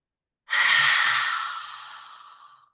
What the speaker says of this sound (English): So the breath in is that deep belly breath, looking up, smiling up.